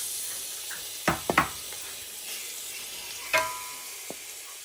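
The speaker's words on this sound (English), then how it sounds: "So I'm going to fry them so I can add to my jollof rice base." Gino and Derica tomato paste, a cup of each, fries in a pot as a jollof rice sauce base: a faint steady sizzle with a few sharp clanks and scrapes of a spoon stirring, no talking.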